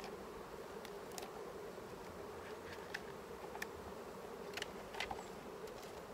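Honeybees buzz steadily throughout a beehive inspection, a continuous close insect drone with brief louder swells as individual bees pass near.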